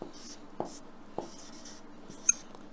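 Pen or chalk scratches out handwriting in short strokes, with a few sharper taps between them, close and fairly quiet against a faint background hum.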